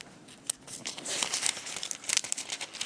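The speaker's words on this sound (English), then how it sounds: "I don't have time for trying to get the page turned." Thin Bible paper crinkles and rustles as a page is turned with dry fingers, a close, continuous papery crackle with a few sharper snaps, heard alone without talk.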